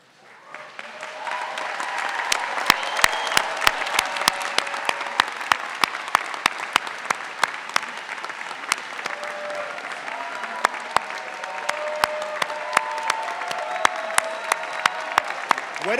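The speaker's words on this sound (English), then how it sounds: "Let's have a final round of applause for the GSB class of 2024." Sustained applause fills a Stanford Graduate School of Business graduation ceremony for the MBA, MSx and PhD class of 2024, a dense steady clapping from a large seated crowd lasting throughout, with sharper individual claps standing out near the microphone.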